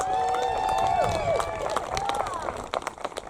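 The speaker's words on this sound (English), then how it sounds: "Let's give these ladies a round of applause." Crowd applause at an outdoor March for Science rally in Amarillo, Texas, scattered claps and cheers mixed with whistling and tonal noise, under a busy background that thins into sparse individual claps near the end.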